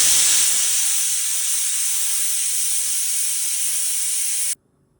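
Loud, steady hiss of steam escaping through a pressure cooker whistle while egg curry cooks on the stove, one continuous blast that cuts off abruptly near the end, no voices.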